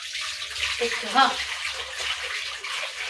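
Water runs steadily from a tap while something is washed, a constant close rushing wash with a brief splashy swell midway and a short spoken word over it.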